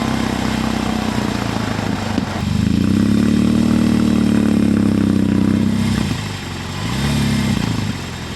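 A BMW R18 Roctane motorcycle engine hums steadily on the ride, then the throttle opens into a loud, sustained rising drone. It eases off briefly and then revs up again close to the microphone, with wind rush underneath.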